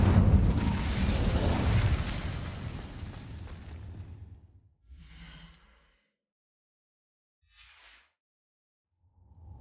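Incendio fire spell cast in Hogwarts Legacy, a loud roaring whoosh of flame that swells then fades over several seconds, followed by a couple of faint brief puffs.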